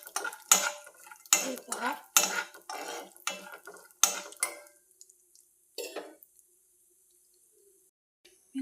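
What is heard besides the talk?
frying almonds stirred in a pan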